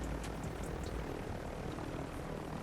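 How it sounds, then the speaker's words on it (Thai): Helicopter in the Warzone Mobile shooter game, a steady whirring rotor and engine drone holding at an even, moderate level throughout with no speech. "ขึ้นเฮลิคอปเตอร์ไปก่อนเลยนะครับ"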